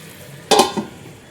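Chicken stirred in a frying pan at home gives a single brief scrape-and-sizzle burst with a quick follow-up clatter, close and fairly loud against quiet background.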